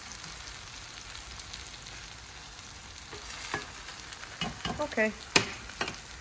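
Eggs frying in a pan with vegetables for a Sunday brunch, a steady close sizzle with a few sharper spatula clatters and scrapes near the end, and a brief spoken word.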